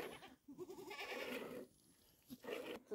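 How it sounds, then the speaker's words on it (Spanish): A sheep bleating close by in a high mountain village setting, several wavering, quavering bleats separated by short pauses, clear and fairly loud with no talking. "Mira, tiene oveja también."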